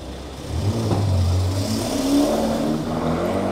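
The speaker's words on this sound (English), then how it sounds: "As a Ferrari races down my old street" A Ferrari races past on a city street in Seoul's Gangnam district at night, its engine rising in a loud, close revving surge that holds for a couple of seconds before easing amid steady street noise.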